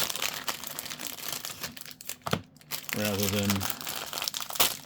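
Wax-paper rack packs of 1987 Donruss baseball cards are torn open, with crinkling and a sharp rip close by, mixed with someone talking throughout.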